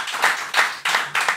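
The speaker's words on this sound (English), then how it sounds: "Clap now." Close, sharp hand claps in a podcast studio, four loud beats spaced evenly about a third of a second apart.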